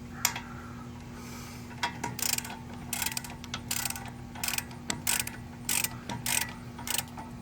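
Wrenches tighten nuts and bolts during front wheel bearing replacement on a 2013 Hyundai Sonata, with repeated ratcheting clicks and metallic clanks in uneven bursts over a steady background hum, up close with no speech.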